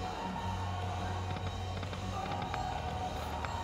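A bonus-round explosion effect on a Louie's Gold Xtra Cash slot machine bursts out as a dense, steady wash of crackling pops over a loud casino-style electronic bed, running without pause.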